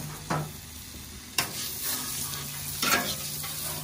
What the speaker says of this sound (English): Now all I'm gonna do is I'm gonna put down a little bit more olive oil.